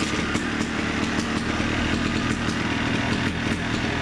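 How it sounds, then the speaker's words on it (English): Kawasaki KX250 two-stroke dirt bike running after a kick start, its raspy engine droning loud and steady close by with a fast, buzzy crackle throughout and no talk. "I'm gonna give it 1 kick. Let's see if she starts."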